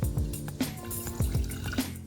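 Water is poured into a container to mix lime water for Bordeaux mixture, a close, continuous gurgling splash with bubbling rises in pitch.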